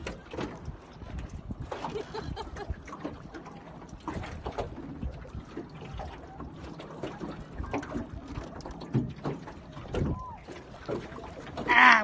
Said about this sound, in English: but Stacy is driving my boat